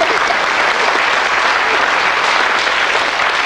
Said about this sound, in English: Why aren't you clapping then?